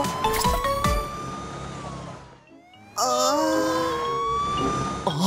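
A loud wailing ambulance siren in a children's cartoon rises and falls close by, briefly dipping before resuming with a sweeping, bright tone; no talking.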